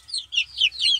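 Roosters and hens cluck close by, three quick bursts of bright, clipped clucking in rapid succession over a quiet, low background.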